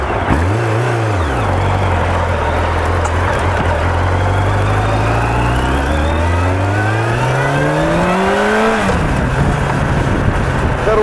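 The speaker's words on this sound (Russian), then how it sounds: "Мотоцикл очень мощный, сейчас посмотрим его динамику." Honda CB1300SF motorcycle accelerating hard on a busy highway, the engine note climbing steadily through the gears with one shift midway, loud and close under steady wind roar.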